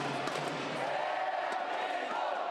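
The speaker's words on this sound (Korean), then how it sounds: "경기가 시작되자 함성 소리로 건물 전체가 들썩입니다" Students packed into a university building lobby roar and cheer as a World Cup football match against Uruguay kicks off, a dense, steady wall of crowd noise with shouts rising through it.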